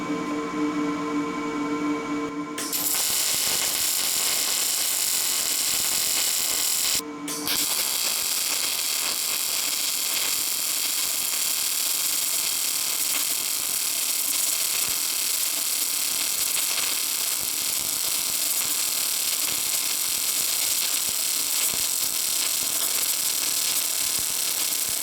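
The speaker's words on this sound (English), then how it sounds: "I will be, you know, MIG welding with this one" MIG welding on steel T-joints with a Lincoln Electric Power MIG 210 MP: a steady, close, hissing crackle that runs continuously after a short start, broken once by a brief pause.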